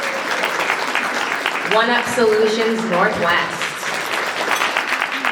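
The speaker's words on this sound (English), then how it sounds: "Yes, we're going to keep clapping, thank you." Audience applause at a spring fundraising main event as sponsors are thanked, a sustained wash of clapping running beneath a speaker reading a sponsor name over the sound system.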